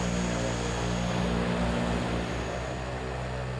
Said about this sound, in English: when that plane touches down